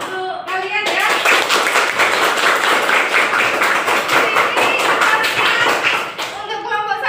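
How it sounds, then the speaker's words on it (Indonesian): A classroom audience claps for students, a short voice giving way to brisk, dense clapping that fills most of the stretch before fading back into speech. "kita beri tepuk tangan untuk kalian ya"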